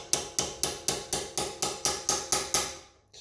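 A hammer gives about ten quick, evenly spaced metallic taps on a hand-made iron rivet, close and sharp, each ringing briefly before the next, then stopping.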